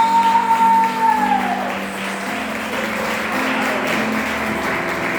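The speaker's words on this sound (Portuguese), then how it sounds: "Que a salva de palmas glorifique a Deus" A congregation applauds at a Sunday family service in a church, a steady wash of clapping that follows a fading sustained tone and holds at an even level for several seconds.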